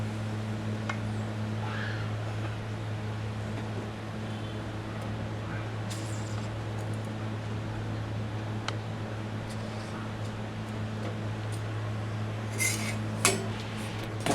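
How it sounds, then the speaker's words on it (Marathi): A bhakri is flipped on a hot tava. A few soft scrapes and light clinks come over a constant low hum, with a brief cluster of sharper clicks near the end and no talking. "आता आपण याला तव्यातच पलटी करू."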